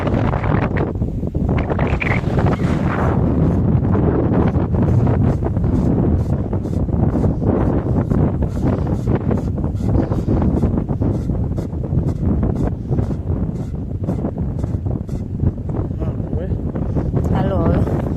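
Strong wind gusting across an open farm field, a steady roaring rush buffeting the microphone for the whole stretch, with someone talking over it throughout.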